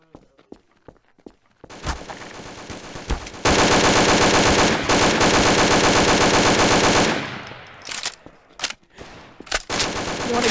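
Loud, sustained automatic gunfire in the game Garry's Mod, a long rapid burst of shots after a few scattered single cracks and footsteps, then trailing off into isolated shots.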